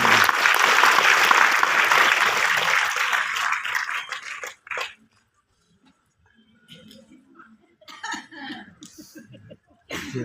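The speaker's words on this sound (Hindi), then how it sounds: "एक बार मैम के लिए जोरदार ताली बजा दीजिए।" An audience breaks into loud, sustained applause for a woman, lasting about four seconds. It then stops sharply, leaving near silence with scattered faint sounds and brief talk.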